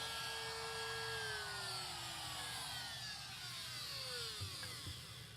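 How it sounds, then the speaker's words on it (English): A small palm router cuts waste wood from a hinge mortise for a butt hinge, giving a steady high-pitched whine that glides down in pitch over a low motor hum, loud and continuous throughout. "go back to my little palm router and clear out what waste I have"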